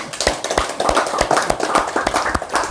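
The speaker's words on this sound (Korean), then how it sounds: "박수로 우리 한번." Clapping from a Buddhist lecture audience, a dense patter of hands close by with uneven bursts and dips in loudness, continuing throughout without speech.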